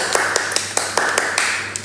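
Children clapping for themselves in a Thai classroom lesson: a run of about eight sharp, separate claps spread evenly across a couple of seconds, close and fairly loud, with no talking over them.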